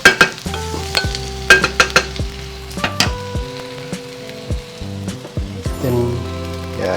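Spoon scraping and stirring spices and vegetables for South Indian sambar in a home pan, a run of sharp clinks and knocks against the metal over a light sizzle, loud and close, with no talking.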